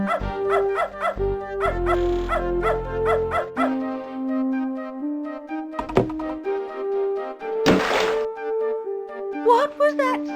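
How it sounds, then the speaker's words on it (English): A dog in the video game Beneath A Steel Sky barking in sharp repeated yips over a tonal synthesized music score, with a burst of noise and a thunk between phrases. "That dog is in my way. And I bet his bite is worse than his bark."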